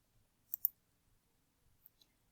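Two quick computer mouse clicks close together, followed a moment later by another faint click, sharp and near in an otherwise quiet room.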